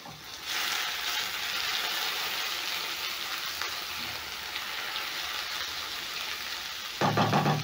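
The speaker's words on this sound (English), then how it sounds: "in the same pan, I'm going to add in 1 small onion and red capsicum" Small onion and red capsicum frying in a pan, a steady broadband sizzle that starts abruptly and holds loud and even, with a fresh burst of crackling near the end.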